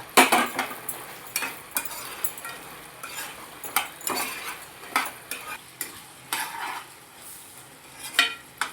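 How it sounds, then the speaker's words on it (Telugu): Soya chunks with spices are stirred in a pan for veg Manchurian, with repeated scraping and clinking of a utensil against the metal over a steady sizzle, close and fairly quiet, in irregular strokes. "ఈ సోయా చంక్స్ అన్నీ ఇందులో వేసుకుని కలుపుకుంటూ ఉండాలి"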